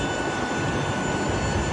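Steady broadband roar of an airplane at Stansted airport fills the clip, a continuous loud engine rumble with no pauses or voices.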